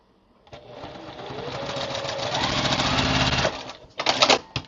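A sewing machine stitching a blue quilt block, a steady fast mechanical whirr that ramps up and runs continuously for a few seconds, then stops and gives a short second burst, close and loud.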